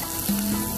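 Onion frying in a pan for Filipino chicken tinola, a short burst of steady close sizzling with a faint tonal hum, no voices.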